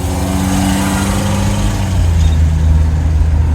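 A car engine with a worn exhaust idles steadily, giving a continuous low rumble that stays close and loud for the whole stretch, with no voices over it.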